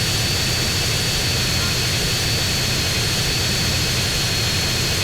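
Airplane engine in the video game GTA San Andreas during an airport race: a steady, loud jet roar with broadband hiss running unbroken throughout.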